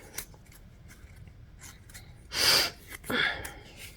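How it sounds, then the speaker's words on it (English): Someone with a cold gives two short, close sniffles in quick succession over a quiet background. "And I apologize for all the sniffles."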